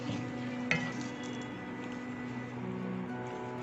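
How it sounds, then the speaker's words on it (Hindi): Chili garlic sauce being stirred into macaroni in a pan, a steady low sizzle with soft scraping of the spoon and one brief sharp clink near the start, no talking. "इसको करेंगे हम अच्छे से मिक्स।"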